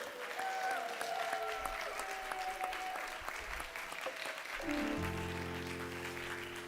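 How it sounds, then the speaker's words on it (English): Congregation applauding at a New Year church service, steady clapping throughout with sustained tones from an instrument or feedback ringing over it and growing stronger toward the end. "Give yourselves a round of applause."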